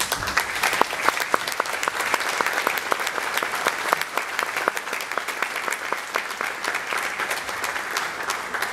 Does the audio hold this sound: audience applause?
yes